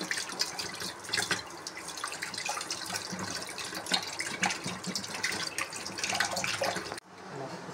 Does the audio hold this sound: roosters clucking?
no